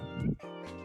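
Nekomata, a cat demon in Persona 2, gives a short two-part meow, close and clear, the first note louder and the second trailing off.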